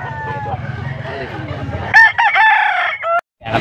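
A young rooster crows loudly and close by near the end, with shaky, breaking notes, after clucking and chatter at a busy fowl market in Pampanga.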